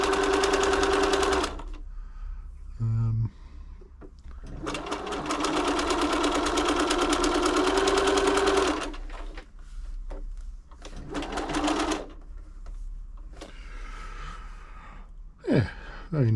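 A Bernina B325 sewing machine runs a stretch stitch in bursts, its motor humming with a fast, steady needle rattle that stops and restarts several times, loud and close, with short pauses between runs.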